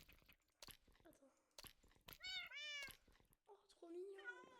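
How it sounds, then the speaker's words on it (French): Several cats meowing in a Minecraft game, a string of high, drawn-out mews close up, some overlapping, with a voice talking in between. "Maintenant j'ai une famille de chats."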